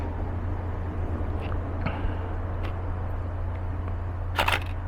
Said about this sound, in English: you can hear this, the real sound of a shutter, especially as this close to my mic